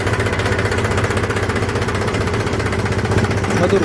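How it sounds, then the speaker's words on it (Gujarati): A Mahindra 275 tractor engine runs smoothly with no back compression, an even, rapid, close knocking chug at a steady loud level, without anyone speaking. "જરાય બેક કમ્પ્રેશન નથી, એકદમ નવા ટ્રેક્ટર જેવું એન્જિન ટકાટક"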